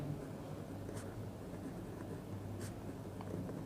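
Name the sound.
writing on a board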